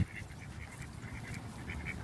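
Wild ducks quack again and again in a steady, fairly close chatter while being fed outdoors in Florida, with no voices over them.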